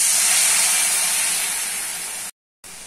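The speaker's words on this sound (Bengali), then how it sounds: "1 চামচ করে হলুদ, লঙ্কা, জিরা, ধনা, লবণ, দিয়ে দিচ্ছি জল" Water poured into frying spices (turmeric, chili, cumin, coriander and salt over browned onion) bursts into a loud, steady hiss of sizzling steam that gradually eases, breaks off briefly, then resumes.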